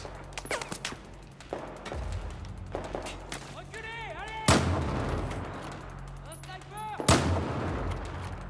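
Gunfire in the Battlefield 4 video game: rapid bursts of shots and two heavy blasts amid rumbling battle noise and ricochet-like whines, loud and close, with a voice talking over the action.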